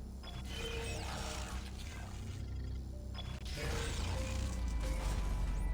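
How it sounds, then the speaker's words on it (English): Machine powering up in the center of a room in a sci-fi video game, a low mechanical hum with scraping, creaking and clanking layers that swell and grow louder toward the end. "the machine in the center of the room starts activating"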